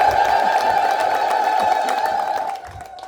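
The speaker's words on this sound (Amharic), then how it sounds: "እልልታ ያንሳል" A church congregation at an Ethiopian Orthodox morning gospel and hymn program ululates in celebration, a loud sustained high trill from many voices that holds steady and then fades slightly at the end.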